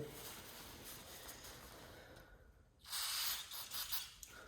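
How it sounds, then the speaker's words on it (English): Brake cleaner sprayed onto a part of a 16-valve 4A-GE engine during a teardown, a steady hiss that stops briefly and then comes back as a louder, closer burst of spray. "Brake clean always works. So I'm just gonna clean this up here a bit."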